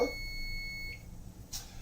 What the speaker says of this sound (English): my oven timer is ready.